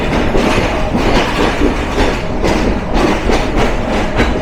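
Nilsagar Express train rolling into Dhaka Airport station: a loud, steady rumble of railcars with a rhythmic clickety-clack of wheels over rail joints, close by and running throughout with no voices.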